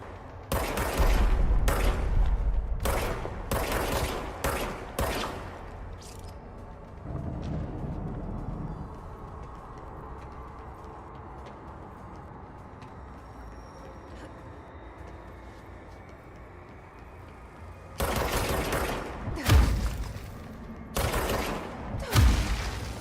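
Bursts of loud gunfire in a story-driven linear video game, several rapid volleys at the start, then a long quieter stretch of low ambient rumble before more heavy shots return near the end; no talking.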